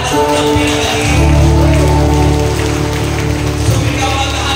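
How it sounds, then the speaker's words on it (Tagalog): A congregation at a healing service claps together in a dense, continuous wash of applause that stays loud and steady throughout, with sustained musical tones running underneath. "Pumalakpak ang lahat ng pinagaling."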